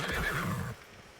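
A horse in the video game Icarus gives a short, breathy whinny that quickly fades, fairly close and heard alone.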